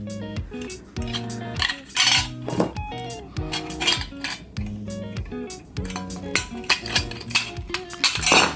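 A microwave magnetron's cover parts are cut off, giving a rhythmic run of bright metallic clinks and ringing scrapes repeated about once a second. The sound is close and fairly loud, with no talking.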